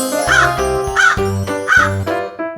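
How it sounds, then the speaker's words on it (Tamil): A crow caws three times in sharp, evenly spaced calls, set against a steady musical backing. "நான் தான் காகம்."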